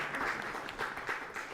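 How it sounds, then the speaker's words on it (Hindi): Studio audience at a Hindi farmers' quiz show applauds a winning contestant, fairly faint but continuous clapping with a few stronger bursts. "जोरदार तालियां एक बार फिर से बजा दीजिए।"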